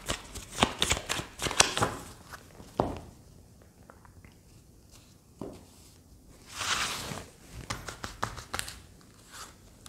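Oracle cards being shuffled by hand, a series of close, crisp riffling bursts and flicks that come in irregular clusters with short pauses between them.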